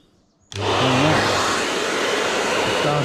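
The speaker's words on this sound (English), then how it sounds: "So now you want to grab your hairdryer" A handheld hair dryer switches on abruptly after a quiet moment, then blows with a loud, steady, close whooshing roar while heating wax-coated canvas.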